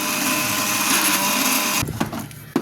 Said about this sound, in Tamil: இப்போ அரைச்சிக்கலாம்.